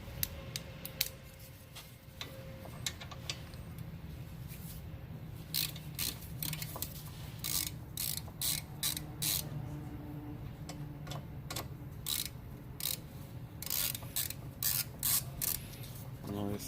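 A ratchet works a 10 mm bolt on the brake hose of a Ford Fiesta, making close, sharp clicking bursts in short repeated runs over a low background hum.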